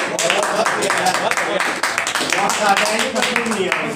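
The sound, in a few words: audience clapping after poetry recital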